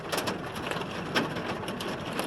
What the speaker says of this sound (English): it started to rain on us